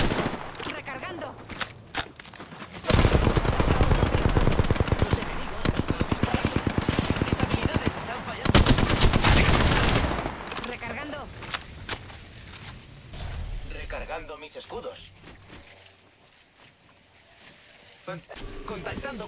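Enemy gunfire in Apex Legends, long loud bursts of rapid automatic fire in two main stretches, then fading to quieter scattered shots, with a voice talking over it.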